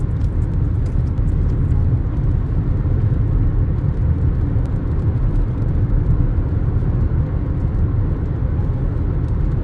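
Interior road noise of a 2022 Haval Jolion cruising on a highway at 120 km/h, a steady low roar of tyres, wind and engine, loud and unbroken with no talk.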